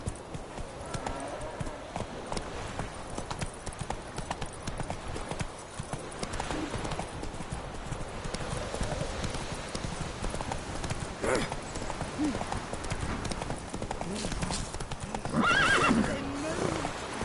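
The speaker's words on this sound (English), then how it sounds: "That's it, Roach. Take it easy. Run, Roach." In The Witcher 3 video game, a horse gallops with rapid rhythmic hoofbeats, and a whinny cuts in near the end over game music, with someone speaking briefly.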